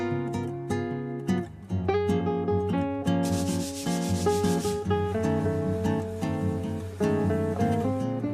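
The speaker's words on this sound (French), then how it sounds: "Après un dernier ponçage manuel" Wooden furniture gets a final hand sanding, steady rhythmic rubbing strokes over a continuous musical background, fairly loud and close.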